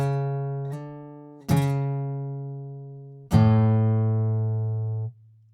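Guitar playing the chorus riff of a song in rhythm, three ringing plucked chords struck at spaced intervals, each left to sustain and decay, loud and close with no talking.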